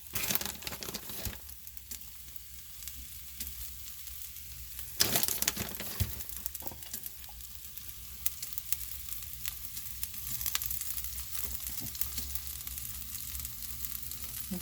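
Birria quesa tacos with mozzarella and beef brown in a hot pan, a steady sizzle and crackle of frying running throughout, with occasional louder pops and scrapes.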